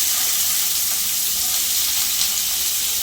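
Onion added to hot oil in a home kitchen pan, a loud, steady hissing sizzle with no break.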